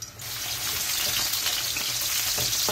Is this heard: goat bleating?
no